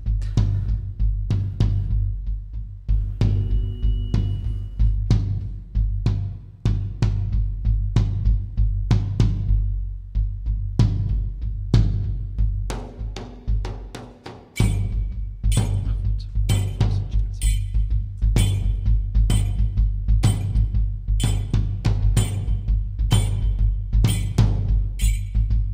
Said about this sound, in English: It's a drum, and you boom, and you have a rod here